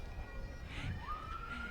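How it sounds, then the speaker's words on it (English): An RCMP lead car's siren rises and sweeps at a Canada Day parade in Port Alberni, fairly faint and distant over a murmuring outdoor crowd. "I hear sirens."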